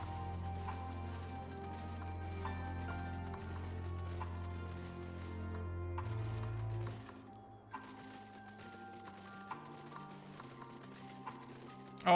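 In Final Fantasy XIV: Endwalker, an enemy creature's hoofbeats clop steadily over game music and ambient sound, the rhythmic impacts continuing as the music thins out partway through, with no talking.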